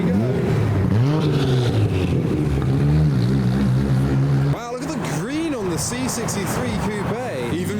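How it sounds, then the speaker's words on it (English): A Nissan Skyline R32 at a car meet revs and idles nearby, its engine note rising and falling in swoops, loud and close, with voices audible in the background. "More sounds from the R32"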